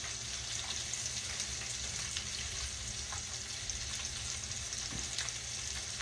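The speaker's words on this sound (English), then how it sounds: "Cutting them in just little nuggets like this, they just don't take long to fry. Not in that hot grease anyway." Small catfish nuggets fry in hot grease, a continuous crackling sizzle that holds at an even, moderate level throughout with no talking.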